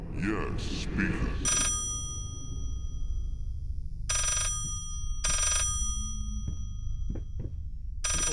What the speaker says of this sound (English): And the phone is ringing backwards.